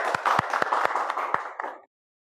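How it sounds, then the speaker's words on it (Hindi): A small audience claps to welcome a guest speaker onto the stage at a motivational talk, a dense patter of hands with a few sharp louder claps standing out, fairly close, ending abruptly after about two seconds. "तालियों के बीच स्वागत"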